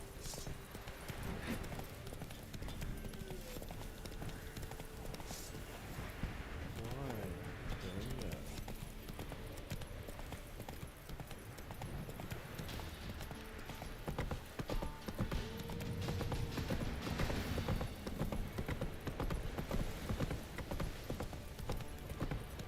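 Roach, the horse in The Witcher 3, gallops with steady clip-clop hoofbeats throughout, layered over game music and ambience, with a voice talking over parts of it and the hooves growing louder toward the end.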